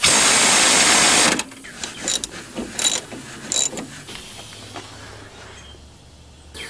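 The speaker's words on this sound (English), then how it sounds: "Now just tighten all the bolts and you're done." Bolts are tightened on a repaired rear strut mount plate of a Sebring: a loud, dense mechanical burst opens, then intermittent ratcheting clicks and metal taps follow at close range.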